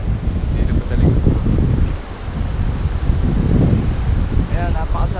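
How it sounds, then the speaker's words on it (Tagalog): Steady breeze rushing past an outdoor microphone, a low continuous whoosh with faint rustling and distant ambient noise. "Sarap ng simoy ng hangin."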